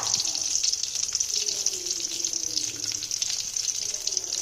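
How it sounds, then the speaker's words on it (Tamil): Onions hit hot oil for a kurma, giving a steady, close hiss of sizzling that holds evenly throughout, with no talking. "எண்ணெய் ஊற்றிக்கிறேன், கொஞ்சம் வெங்காயம் எடுத்து வச்சுருக்கேன், கொஞ்சமாக போடுறேன்"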